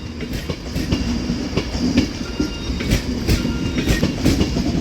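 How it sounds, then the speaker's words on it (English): An Avanti West Coast Class 390 train pulls out of Manchester Piccadilly with a loud, close rumble and steady rhythmic clickety-clack of wheels over rail joints, continuous throughout. "390126 now departs with the 1457 Avanti West Coast service to London Euston"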